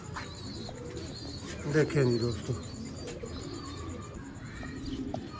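Sialkoti breeder pigeon cooing in soft low pulses, mostly buried under someone talking, with a fuller burst of coos near the middle.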